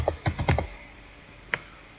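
A computer keyboard gives a short burst of four or five close keystrokes, then a pause and one more keypress, in a quiet room.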